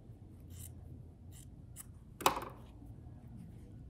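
Scissors cut quilt fabric on the bias: a few soft, faint snips, then one crisp, close cut about halfway through, with quiet room hiss around them.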